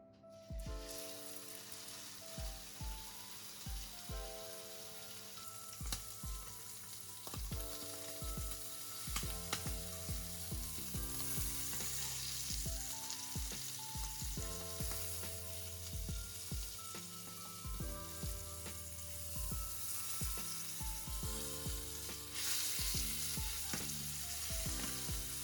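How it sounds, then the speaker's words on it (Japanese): Salted filet mignon with the excess fat trimmed sears in butter in a hot frying pan, a continuous close sizzle with occasional crackles and stirring sounds under steady background music. "余計な脂肪を取って塩を振った肉にバターを熱したフライパンで焼き目を"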